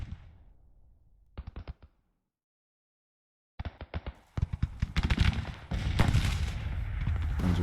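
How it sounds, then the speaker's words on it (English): Battle gunfire in the Grand Tactician Civil War strategy game: a short burst of sharp reports, a silent gap, then dense overlapping volleys and booms that swell into continuous loud firing. "Guns are still firing away."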